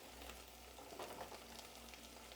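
Onion just added to hot oil in a pan with chicken, giving a quiet, steady sizzle and crackle close by, with no talk.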